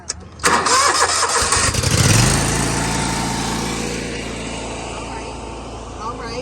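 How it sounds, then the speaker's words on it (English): A lawn mower engine cranks and catches, then settles into a steady loud running drone in a yard of thick spring grass, with people talking nearby. "We're gonna hope that this mower starts."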